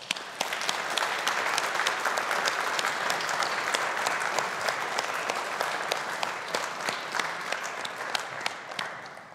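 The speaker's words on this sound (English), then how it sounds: "Let us take the opportunity to show our appreciation and gratitude to all those who have supported you with a round of applause." Audience at a university humanities and social sciences graduation ceremony clapping steadily, with many distinct individual claps over a fairly quiet, moderately sized crowd that eases off slightly toward the end.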